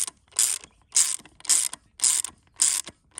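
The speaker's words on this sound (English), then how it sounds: "So I'll just back the ratchet off all the way," A ratchet on a valve spring compressor during a Barra engine valve spring swap clicks in six evenly spaced, loud bursts, close and alone.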